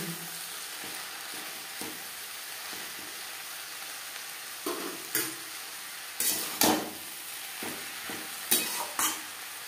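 Papaya being stirred with spices and ghee in a pan over a medium gas flame, a steady soft sizzle broken by several louder scraping strokes of the spoon against the pan, growing busier toward the end; no talking.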